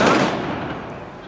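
Gunfire crackles during a police demonstration at an Independence Day event on 11 November 2011: a loud, sharp burst at the start that then decays into a fading, noisy rumble.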